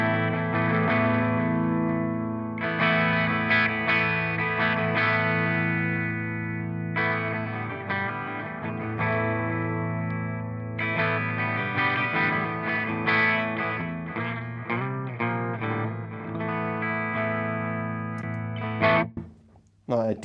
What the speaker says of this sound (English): now I will play some chords and we activate the bright switch